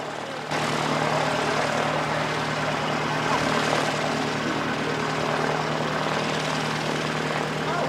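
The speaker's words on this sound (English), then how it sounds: "Emirates A380 suddenly performs a low go-around," An Emirates Airbus A380 performing a low go-around gives a loud, steady engine roar that starts abruptly and holds for several seconds as a broad continuous rush.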